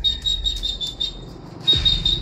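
High, rapid bird chirps repeat in bursts over a low background rumble, with a brighter flurry of calls near the end.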